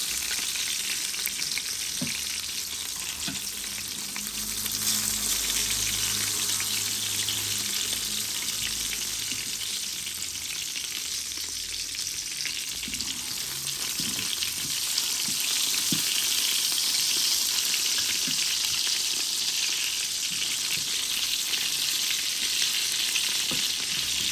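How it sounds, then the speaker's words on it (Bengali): Long eggplant pieces frying in hot oil alongside hilsa fish, with a continuous close sizzle and crackle, occasional low knocks of a spatula, and no voices. "বেগুনটা একটু ভাজিয়ে দিলাম"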